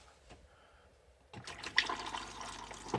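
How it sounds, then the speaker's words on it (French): Water poured into the closed drain hatch of a Benimar Tessoro 494 camper van, starting suddenly as a steady splashing gush that continues close and moderately loud. "si je mets de l'eau"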